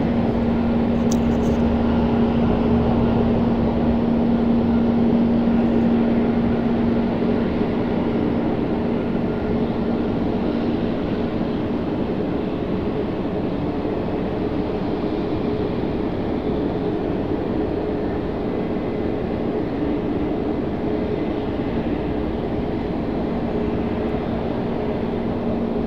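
A Spirit Airlines airliner taxiing at Raleigh-Durham airport, heard as a steady broadband jet engine roar with a faint whine, continuous and fairly loud.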